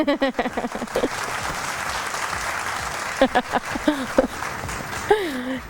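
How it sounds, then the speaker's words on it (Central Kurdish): A burst of clapping from a small group for a nine-year-old girl continues for several seconds, with a person speaking before and after it. "یەک چەپڵە بۆ لەرین"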